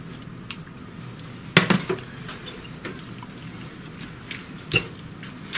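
A fork stirs pasta and sauce in a dish, giving a few scattered clinks and scrapes against the bowl with a couple of sharper knocks, close and moderately loud.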